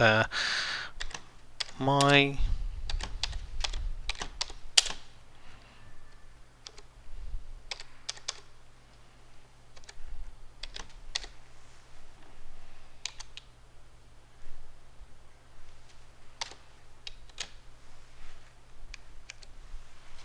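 Typing on a computer keyboard to enter a name, a burst of quick clustered key taps followed by scattered sharper clicks, close and fairly faint in a quiet room.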